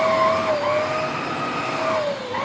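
A Kärcher FC5 Premium floor cleaner running on a floor, a steady, fairly loud motor whine with a faint wavering tone riding on it.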